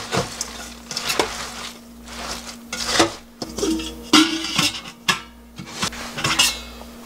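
Hands flip and toss salted young radish (yeolmu) for kimchi in a bowl, making soft rustling and wet handling bursts with occasional light clanks against the container, close and irregular.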